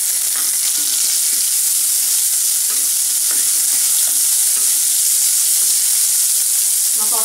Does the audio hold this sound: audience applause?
no